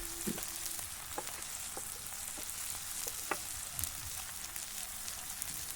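Karimeen (pearl spot) fish shallow-frying in a pan, Indian style in Wayanad, gives a steady low crackle with scattered soft pops and spits, fairly faint and even throughout, with no voices.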